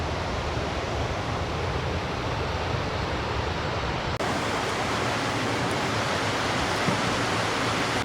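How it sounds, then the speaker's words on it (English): Waterfalls and a river in spate in Glen Lyon, a constant loud broadband rush of falling water with no breaks. "Some lovely waterfalls, yeah."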